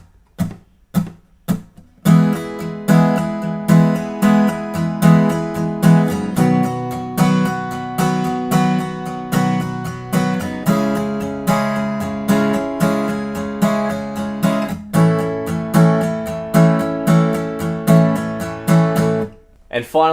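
Acoustic guitar strums the chorus chords of a song, open and unmuted, in a steady rhythmic pattern of repeated strokes with brief pauses between chord changes. It is close and clear, with no voice over the strumming.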